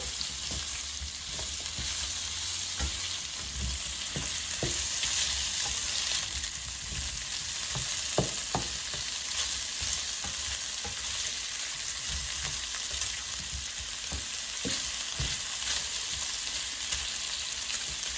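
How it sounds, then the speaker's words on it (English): Kielbasa sausage sizzles steadily in hot oil in a pan over medium-high heat, a constant crackling hiss with occasional pops and stirring scrapes, close up. "So now the oil is sizzling, so I'm going to reduce the heat to medium-high"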